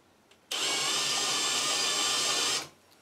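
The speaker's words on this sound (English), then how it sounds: "Take a chamfer bit and just chamfer the top of the hole to help start the tap." A chamfer bit spins in a drilled hole in a Vortec cylinder head, chamfering its top before tapping; one loud steady whirring burst of about two seconds starts abruptly and winds down, in a quiet workshop.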